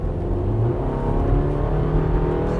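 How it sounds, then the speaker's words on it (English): A 2019 Toyota RAV4 LE AWD with a 203 horsepower engine and an 8-speed automatic transmission accelerates onto a highway, a steady cabin engine drone with road rumble that holds level throughout, with no talk. "we're just merging onto a highway here"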